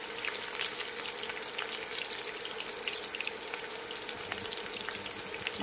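Chopped onion fries in a hot pan with a steady, dense sizzle and crackle that holds even and continuous throughout, with no voices over it.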